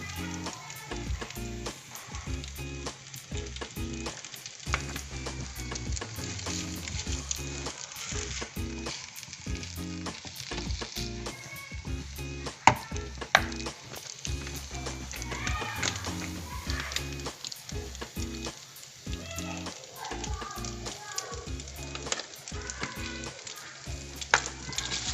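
Spaghetti stir-fried in a pan with butter, garlic and prawns: a steady close sizzle broken by repeated clinks and scrapes of a utensil against the pan, with faint speech now and then.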